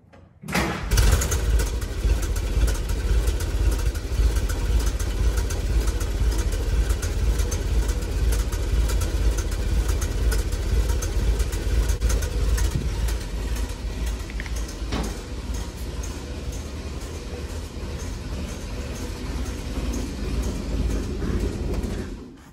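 A GMC CCK military truck engine runs steadily and loud throughout, a rough low rumble with continuous rattling and no talk.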